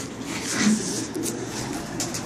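A young racing pigeon gives a brief low coo inside a loft, heard once early on against a steady background hum and rustle.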